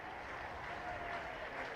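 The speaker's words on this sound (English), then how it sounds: "The crowd are behind him with the applause as well." Cricket crowd at a T20 Vitality Blast match applauding a new batsman walking in, a steady wash of clapping from a distant stadium crowd, even and continuous throughout.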